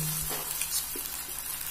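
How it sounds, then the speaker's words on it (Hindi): A moong dal omelette fries in a pan just after being flipped, making a steady close hiss of sizzling with faint crackles and a low hum underneath, with no speech. "मूंगलेट को पलट लेते हैं।"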